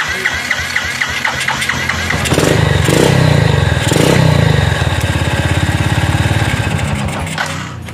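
A Yamaha Byson motorcycle's starter motor, jumpered directly, whirs and cranks the engine until it catches at about two seconds and runs loudly and steadily nearby, with no talk.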